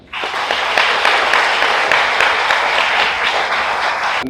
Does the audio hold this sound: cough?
no